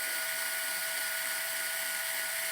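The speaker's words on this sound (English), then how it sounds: "grab a drill, not the greatest drill, but small, and a small sharp drill bit" A small drill with a sharp bit boring into a 2020 Fox Factory Float DPX2 rear shock, giving a steady high whine with no break, close and fairly faint, alone with no talk.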